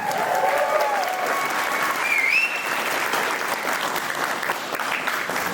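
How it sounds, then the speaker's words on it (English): A crowd at a wedding party claps loudly and steadily, a continuous wash of many hands, with a few whistles and cheers rising above the clapping early on. "Give me a big round of applause."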